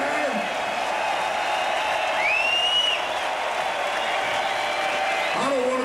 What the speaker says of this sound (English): Let's get a round of applause for all these fucking other people and bands that we fucking worked with this whole time.